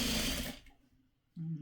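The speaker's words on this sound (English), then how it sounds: "I'm going to go ahead and sew this on" Sewing machine stitching quilt fabric, a loud close motor whir that stops briefly, leaving quiet clicks, then starts again at the end.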